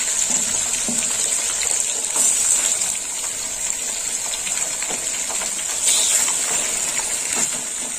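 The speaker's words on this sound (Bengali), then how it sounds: "এবার এই মাছের মাথাগুলো ভাজা হয়ে যাবে।" Catla fish heads and bones frying in oil make a steady, hissing sizzle throughout, with occasional louder crackling bursts.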